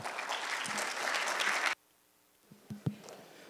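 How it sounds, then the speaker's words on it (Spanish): Audience applause for the speakers at a university water forum, a dense burst of clapping that stops abruptly, followed by a few faint knocks and handling noises in a quiet room. "Un aplauso para ellos, por favor"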